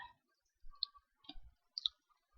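Mouse clicks selecting the Bali Simbar keyboard in Keyman software, a few sharp, quiet clicks spaced irregularly in a silent room.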